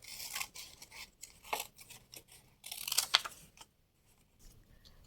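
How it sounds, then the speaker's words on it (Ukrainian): Scissors snip through strips of green paper for a children's craft, with several crisp, close cuts in irregular bursts separated by short pauses. "беремо ножиці і відрізаємо 4 смужки"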